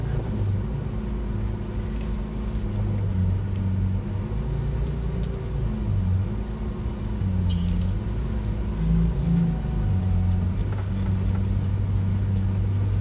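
Steady low engine rumble and road noise inside a moving car, continuous and fairly loud throughout, with faint voices briefly mixed in.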